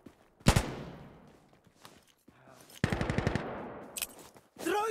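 Automatic weapons fire in the tactical shooter Insurgency, with sharp close bursts of rapid shots separated by quieter gaps and echoing tails, including a rattling volley near the middle.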